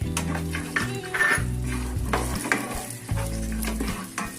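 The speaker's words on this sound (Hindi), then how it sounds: "अब हम थोड़ा ऑयल डालेंगे और सबसे पहले हम काजू को थोड़ा सॉटे करेंगे," Cashews sautéing in hot oil in a pan while chicken barra is being cooked, giving a steady close sizzle broken by repeated scraping and stirring strokes and light clinks of a utensil against the pan, with no voices.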